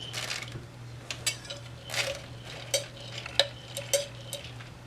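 Car freshie scent beads being stirred, giving a run of light rattling, clicking scrapes in uneven bursts against a steady low hum, close and fairly quiet with no talk.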